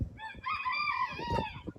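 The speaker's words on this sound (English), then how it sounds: "Chickens in question." Chickens squawking and crowing close by, a harmonic rising call over a busy layer of clucks and scratchy farmyard noise.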